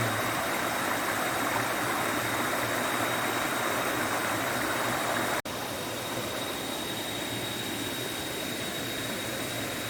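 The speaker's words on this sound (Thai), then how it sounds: "น้ำตกไม่ใหญ่ครับผมก็เล่นน้ำได้" A small waterfall stream in Thale Ban National Park, Thailand, flows near a campsite with a steady, close, broadband rush of water that carries on unbroken throughout, with no voices over it.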